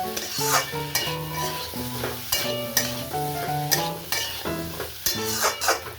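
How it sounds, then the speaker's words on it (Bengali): Chana masala spice mix being sautéed in a pan, with steady scraping and stirring strokes heard under tuneful background music that largely dominates. "চানা মশলা আবারও এটাকে ভালোভাবে কষিয়ে নেব"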